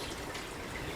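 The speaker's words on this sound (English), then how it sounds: "put the water in the top. That filters through the filter" Water from a sink tap pouring into the top of a Brita filter jug, a steady dense splashing rush that stays constant and close through the whole second.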